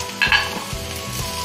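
Curry leaves and ginger-garlic paste sizzle in a hot oiled pan at close range, a steady bright crackle broken by a few louder spatters and stirring scrapes.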